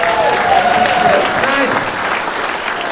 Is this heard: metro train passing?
no